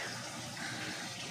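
Water pours steadily into a home aquarium during a water change, giving a continuous close hiss and gush with no pauses.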